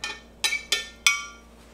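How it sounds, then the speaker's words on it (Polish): Four separate glassy clinks from a spoon stirring lemonade of water, lemon juice and erythritol syrup in a glass vessel. The strikes come close and clear, each ringing briefly before fading, with no talk. "Mieszamy."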